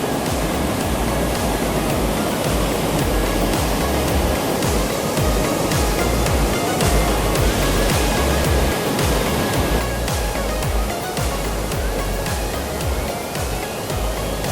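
Yongso Falls in Jujeon Valley, Seoraksan, pours steadily into its pool, a loud, close, continuous roar of rushing water with no breaks.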